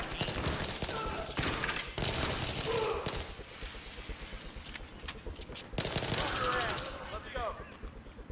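Gunfire in the video game Battlefield 3, with bursts of rapid automatic fire and single shots that come and go in clusters, loud and close, with occasional voices under the action.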